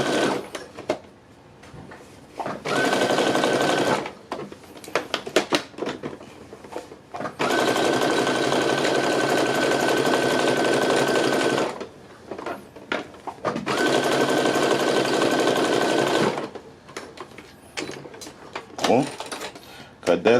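A sewing machine stitches a handmade waistband in two long steady runs of rapid mechanical whirring, with pauses between them where a person talks and fabric rustles.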